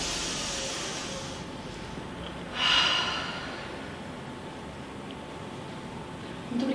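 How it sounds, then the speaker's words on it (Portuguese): A single deep breath drawn in around mid-clip during a guided emotional exercise, a short, audible rushing inhale that rises and fades, with a quieter breath sound at the very end and no talking. "Agora uma super respiração profunda."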